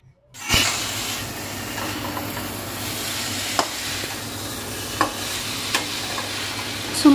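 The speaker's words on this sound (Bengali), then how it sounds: "এবার ভালোভাবে সব কিছুকে আরও 10 মিনিটের মতো কষিয়ে নিচ্ছি" Fish head and mung dal being stir-fried in a pan hiss with a steady close sizzle, broken by a few sharp scrapes and knocks of the stirring spoon.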